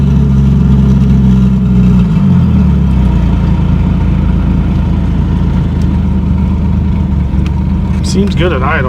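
A 2JZ-GE swapped MK3 Toyota Supra, converted to turbo and recently treated for a misfire, idles steadily with a low, continuous engine drone throughout, and a brief squeaky sound near the end.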